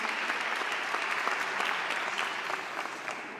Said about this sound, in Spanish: después de todos estos aplausos y esta bienvenida también calurosa a todas las autoridades